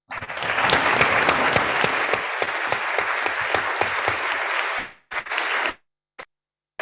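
An audience claps at a talk on ethics, a loud, dense round of applause sustained for about five seconds before fading to a few scattered claps and silence.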